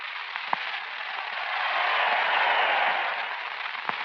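A boxing arena crowd applauding and cheering as Jack Sharkey is introduced before the 1938 Joe Louis fight, a dense roar of clapping that swells in the middle with a couple of sharp pops, heard through an old radio broadcast.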